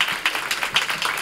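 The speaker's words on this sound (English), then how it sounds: "Get another round of applause." An audience at a dinner-and-talks event claps in a dense, steady round of applause, close and fairly loud throughout.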